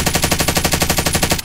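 Rapid automatic gunfire bursts in steady rhythm, loud and close, a Call of Duty: Modern Warfare machine gun firing continuously without pause.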